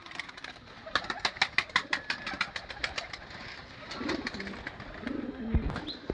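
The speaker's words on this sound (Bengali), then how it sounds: "কত সুন্দর পাঞ্জা এই পায়রাটা।" Kamaga pigeons kept for sale coo softly nearby, with a burst of sharp repeated clicks or flutters early on and a low engine hum in the background.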